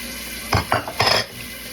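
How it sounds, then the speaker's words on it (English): Dishes being washed in a hotel room kitchen sink, with a few brief close splashes and clinks of dishware under running water, no talk. "You don't need to see me wash dishes, right? You know what it's like to wash dishes."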